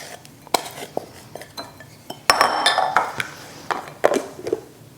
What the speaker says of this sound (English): I'm just gonna store this in a glass Pyrex dish